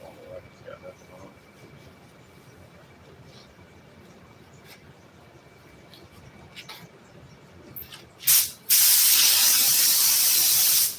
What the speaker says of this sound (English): You don't want to spray that too heavy.